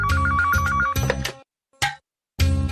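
A telephone plays an electronic ringtone melody in short, loud, close bursts, a repeating tune broken by brief silent gaps, with no talking over it.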